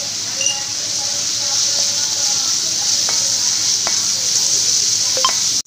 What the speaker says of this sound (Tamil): இந்த ரா ஸ்மெல் போகிற வரைக்கும் நீங்கள் நல்லா வதக்கிக்கோங்க